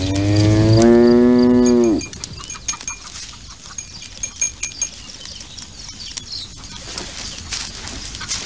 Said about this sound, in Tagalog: Bakit ka sinusundan ng kalabaw?